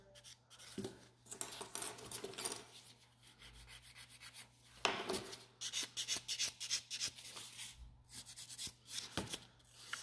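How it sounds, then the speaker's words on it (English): A nail buffer rubs over gel nails with soft, scratchy strokes in a repeating back-and-forth rhythm, close and fairly quiet, without any talk. "A great buffer, and then start smoothing things nicely out."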